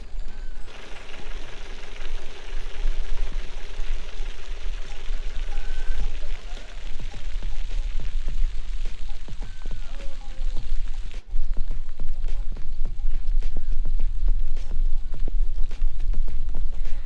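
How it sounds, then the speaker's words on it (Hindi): Steady rain falls in Sharan Forest in the Kaghan Valley, a mountain woodland, as a dense hiss with many close drips and taps that grow busier toward the end. "सिर्फ खामोशी में इस जगह को महसूस करें और बारिश की आवाज़ को महसूस करें।"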